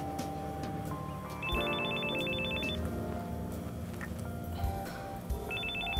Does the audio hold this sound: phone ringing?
yes